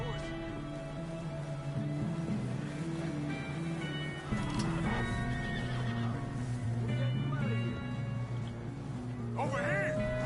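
A horse whinnies and its hooves clip-clop in the Call of Duty Black Ops 4 zombies mode, over a dense layer of game music and rumbling ambience, with a long neigh near the end.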